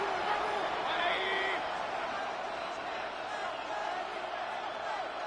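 Steady roar of a stadium crowd in the Madden 26 football video game, a broad wash of cheering that holds level throughout with a brief whistle-like tone near the start.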